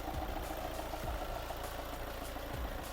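A 2018 Volkswagen Tiguan Allspace R-Line with a 2.0 TDI diesel engine, 4motion and a DSG gearbox idles steadily up close, giving a low, even rumble with a faint rhythmic diesel clatter and no talking.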